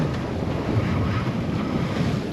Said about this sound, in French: les rafales recommencent